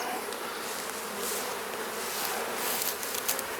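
A dense, steady buzzing of many honey bees at a newly installed nuc hive swarms continuously, close and full, with no voices.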